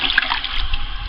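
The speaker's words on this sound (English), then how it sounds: "I'm just going to go ahead and dump this in and stir it up." Electrolyte liquid is poured into a homemade lead-acid battery jar, giving a brief close, continuous splashing gush with no voices.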